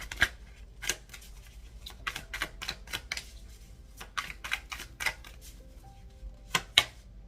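Tarot cards are handled and shuffled close up, with a run of sharp papery snaps and riffles in irregular bursts over a quiet room.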